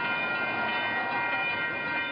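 A light rail train passes a street crossing at Folsom and Coloma, a steady continuous rumble with tonal ringing overtones that holds without a break, close and loud.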